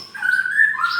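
A white-rumped shama (murai batu), a captive-bred songbird, sings a loud, clear whistled phrase of rising and sliding notes, close by with no voices.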